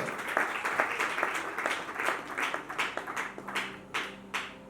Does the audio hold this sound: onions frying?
no